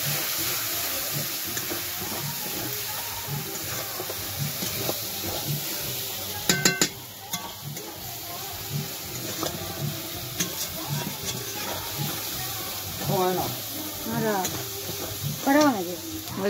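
Chicken curry masala is stirred into crab curry frying in a pan, with scraping stirs over a soft sizzle, several metallic clinks of the utensil against the pan, and bits of talk in the background.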